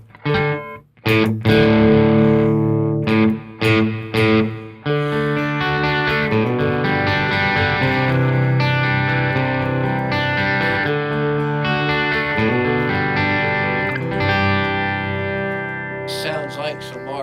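An electric guitar plays sustained chords through an amp, fairly clean with a wash of reverb, after a few sharp plucked notes at the start.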